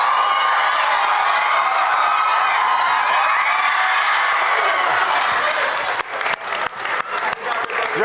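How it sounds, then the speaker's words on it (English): An audience at a school talk on student misbehavior breaks into loud, sustained applause and cheering that fills the room, then thins into scattered claps and shouts toward the end. "round of applause for you guys"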